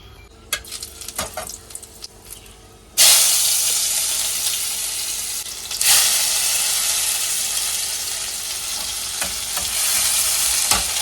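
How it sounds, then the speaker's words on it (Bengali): Onions hit hot oil in a home kitchen pan with a sudden loud sizzle that settles into steady frying hiss, a second burst of sizzling partway through as they are stirred. "পেঁয়াজটা আগে একটু লাল লাল করে ভাজা হোক"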